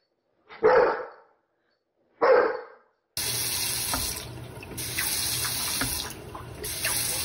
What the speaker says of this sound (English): A fly turning my water off and on.